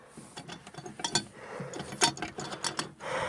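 Metallic ratcheting and clicking of a wrench turning a bolt on a John Deere 44-inch snow thrower attachment on a 300 series tractor, a run of short close clicks and clanks at an uneven rhythm, without talk.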